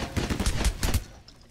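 Rapid burst of video game gunfire, a quick run of sharp shots in the first second that trails off into quiet.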